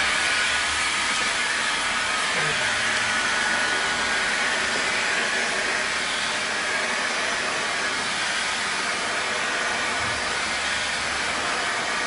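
A heat gun blows a steady, loud rush of hot air over vinyl wrap film, an unbroken broadband hiss that holds constant the whole time with no talking.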